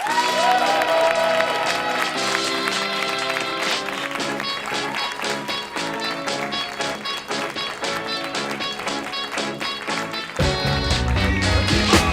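A live podcast taping in New York City: the audience claps and cheers steadily throughout, a dense wash of applause from a packed room, with music playing underneath and a brief shift near the end.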